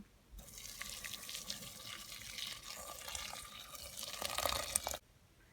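Boiling water is poured over nettles in a kitchen for about four and a half seconds, a steady splashing stream that swells near the end and then stops abruptly.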